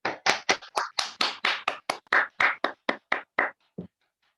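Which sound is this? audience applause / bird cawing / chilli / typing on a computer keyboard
audience applause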